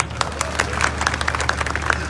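Audience at an Indian election rally in Bhavnagar, Gujarat clapping in a brief, steady burst of applause, many hands pattering together at moderate loudness.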